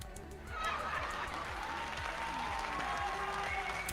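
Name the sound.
crowd applause sound effect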